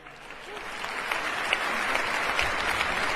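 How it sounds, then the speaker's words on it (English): Applause at a presidential inauguration ceremony swells up from a crowd, a dense, continuous wash of clapping that grows gradually louder and stays steady, heard at some distance, with faint voices mixed in. "Even Biden had to applaud for that one."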